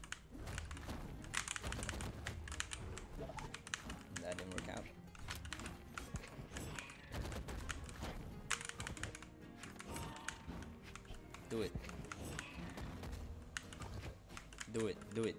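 Rapid computer keyboard clicking during a Brawlhalla game, a dense continuous clatter of keys under a talking voice, close and fairly quiet.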